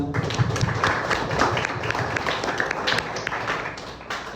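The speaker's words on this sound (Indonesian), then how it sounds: "Tepuk tangan buat Adam." Classroom applause for a student's correct answer, a burst of scattered hand clapping and tapping from a group of children that runs steadily for several seconds and tapers slightly at the end.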